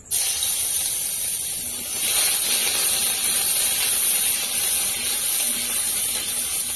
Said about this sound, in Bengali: আমি আদা বেটে রেখেছিলাম, এখন আদা বাটাটা দিয়ে দিচ্ছি।